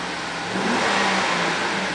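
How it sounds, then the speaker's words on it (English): Engine of a red 2007 Chevy Avalanche LTZ truck revs up briefly, a short rising roar heard up close that swells midway through the couple of seconds. "I'm going to rev it, so keep an eye on that big left-hand dial"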